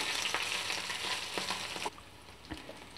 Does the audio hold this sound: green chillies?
yes